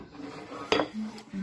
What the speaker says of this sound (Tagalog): Mix para ma-incorporate, mag-mix siya. Mix well. Using by hand.